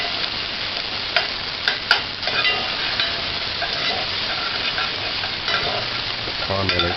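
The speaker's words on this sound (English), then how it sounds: "Caramel it for about 30 seconds." Stirring in a hot pan while caramelizing for plantain rundung, a steady sizzle and fry with scraping spoon strokes throughout, close and continuous with no talk.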